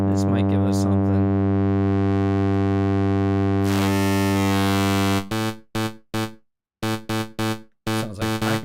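Synthesizer tones with a Pac-Man arcade feel: a long steady buzzy tone, then a rising chirp sweep, followed by a string of short choppy bleeps with gaps, played alone.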